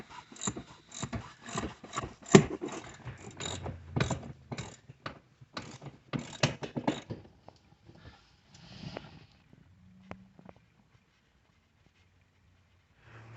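A ratchet wrench clicks in quick bursts while removing the four seat bolts from a Saturn Sky, with rapid, close ratcheting for several seconds before trailing off into a few quieter scrapes and a short low hum.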